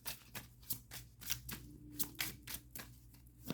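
Timing cards are shuffled for a tarot-style card reading, giving a quiet, steady run of soft papery riffles and flicks close by, with no talking.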